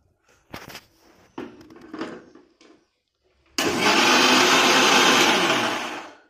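A mixer whirs loudly and steadily for about three seconds, blending a protein shake of dates, nuts and milk, then spins down; a few clattering knocks of handling come before it starts.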